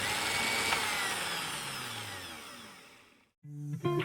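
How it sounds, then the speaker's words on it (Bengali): Mixer grinder blending an eggless vanilla ice cream mixture, a loud close motor whine that steadily winds down and cuts out, followed by a short burst of jar or lid clatter. "আমি এখন পুরো মিক্সচারটা মিক্সি জারে নিয়ে নিচ্ছি ব্লেন্ড করার জন্য আমি তিন সাড়ে তিন মিনিট ব্লেন্ড করব"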